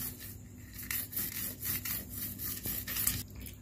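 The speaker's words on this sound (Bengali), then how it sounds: "এবার এই লুনটার সাথে করে ভালো করে চেপে চেপে ঘষে ঘষে পুরোটাতে মাখিয়ে দেব।" Lemon pressed and rubbed with salt over a roasted corn cob, giving repeated close scraping, rasping strokes in an uneven rhythm with short pauses between them.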